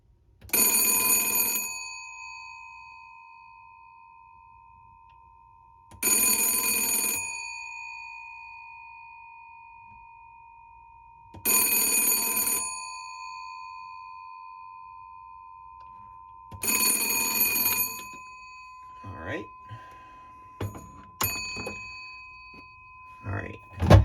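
Four long bursts of ringing from the twin bells of a 1950s BTMC 2825A telephone, evenly spaced with pauses between them, bright and close, followed by brief handling clicks and taps.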